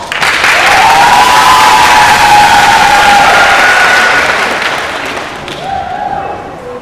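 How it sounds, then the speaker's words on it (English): Audience at a school business competition in Vajiravudh College bursts into loud sustained applause and cheering, with a thin tonal whistle riding over the clapping before it fades near the end. "Please give a round of applause."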